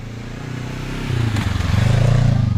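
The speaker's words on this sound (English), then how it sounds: "Here's a real motorbike." A motorbike approaches on a road, its engine rumble building from a moderate drone to a louder, throbbing roar as it draws near.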